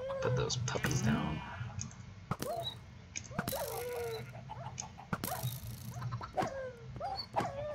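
Puppies in Minecraft whimper and yip in high, thin repeated cries, scattered through a busy game scene with soft voices and clicks in the background.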